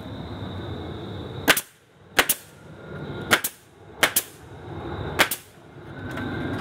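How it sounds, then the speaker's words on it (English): A pneumatic siding nailer fires into siding on a small backyard pole barn, giving sharp, loud bangs mostly in quick pairs spaced about a second apart, over a low background hiss. "I'll nail all this off with the siding nailer."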